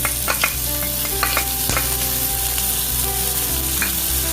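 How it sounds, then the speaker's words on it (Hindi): Chopped onion and green chili fry in oil in a pan, giving a loud, steady sizzle. Utensil scrapes and stirring clinks sound near and repeat through it, with no talking. "इसको मैं थोड़ा सा फ्राई होने दूंगा जब तक ये ऑनियन जो है गोल्डन ब्राउन ना हो जाए"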